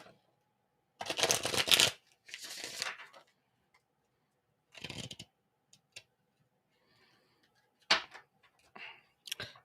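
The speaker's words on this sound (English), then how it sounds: "I'm having to relearn how to shuffle." Tarot cards shuffled by hand in bursts of riffling and sliding, several separate rounds with pauses and small taps between, close and fairly loud.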